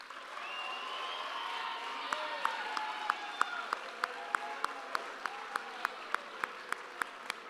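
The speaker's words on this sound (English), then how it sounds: "Please put your hands together, give an applause" A crowd applauds warmly at a middle school awards ceremony while a voice speaks over it. Distinct rhythmic claps then cut through at a steady beat toward the end.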